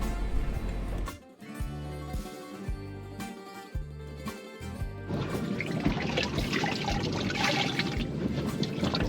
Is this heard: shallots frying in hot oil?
no